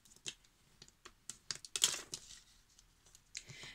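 White 200 GSM cardstock is folded by hand along its score lines, producing a series of sharp, close creasing snaps and light paper rustles at irregular intervals, with quiet gaps between and no voices.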